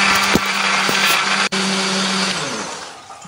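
A kitchen blender grinds shallots, garlic, candlenuts and ginger with a little water, a loud continuous whirring roar with shifting pitch and a brief cut in the middle, running alone without speech.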